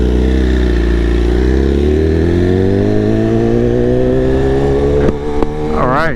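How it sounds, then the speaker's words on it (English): A BMW S1000RR sport motorcycle's engine runs after a cold start. Its steady, loud idle hums up close and climbs slowly in pitch, and a brief voice comes in at the very end. "just do a little cold start."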